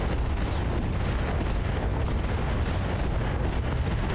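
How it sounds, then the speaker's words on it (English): A mech blows apart from internal explosions in the BattleTech RogueTech video game, a dense, continuous rumbling roar of blast noise that stays loud and steady, with no voices over it. "we had internal explosions and just blew it up"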